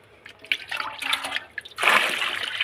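Water gushes from a tap, starting as an irregular sputtering trickle and then bursting into a fuller steady stream near the end.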